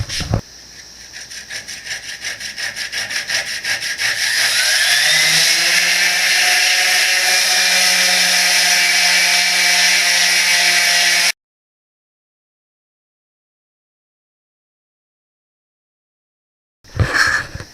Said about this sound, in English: now I'm going to go through with the plug saw and cut all of those off, then hit it with the orbital sander